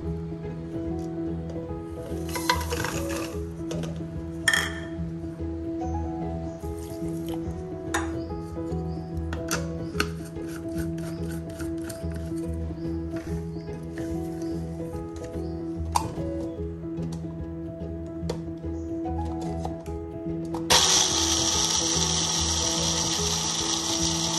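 Fried onions and spices are ground into a paste in an electric grinder, heard as a steady mechanical whirr with sharp clicks and a louder burst of grinding near the end.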